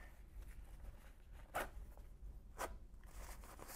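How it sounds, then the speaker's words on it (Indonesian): A zipper on a Fjallraven High Coast hip pack is pulled closed in two quick, close rasping strokes, quiet against a low background hiss, with no talk. "Terus kalian tinggal resleting deh."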